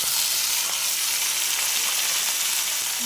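Chopped tomatoes fry in a pan with a steady, close sizzle that holds at an even loudness throughout, with no talking.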